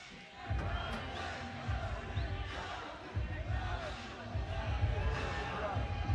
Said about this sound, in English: Well, the crowd likes what they see.